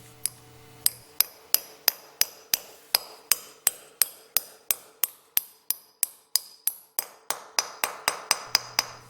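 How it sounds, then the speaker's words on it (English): Steady hammer blows drive a nail into wood, about three per second, sharp metallic strikes close by with a slight ping after each. "Pound until you hit something hard and it stops."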